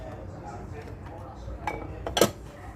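A spoon clinks and scrapes against a bowl while a vinegar and sugar dressing for an eggplant salad is stirred, giving a few sharp close metallic taps after a quieter stretch of low room noise.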